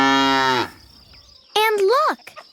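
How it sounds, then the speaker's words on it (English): Black and white cow on a farm letting out two moos, a long low drawn-out call followed by a shorter rising and falling one, loud and close with quiet between. "Look, Lindy, it's a cow"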